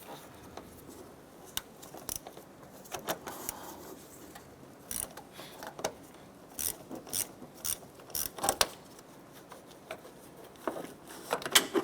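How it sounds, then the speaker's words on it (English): A ratchet with a 10mm socket works battery terminals loose on a 2006-2013 Chevrolet Impala, giving irregular bursts of quick, close clicking pawl ticks separated by short quiet gaps. "Using a 10mm socket and ratchet, we're going to go ahead and loosen and remove our battery terminals."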